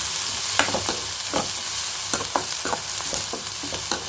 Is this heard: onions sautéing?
yes